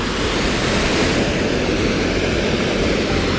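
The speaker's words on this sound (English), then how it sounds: "This is called Paddy River Falls." Paddy River Falls, a waterfall between Tumbarumba and Hume in the Snowy Mountains, gives a steady, dense roar of falling water that holds unbroken and loud throughout, with no voices.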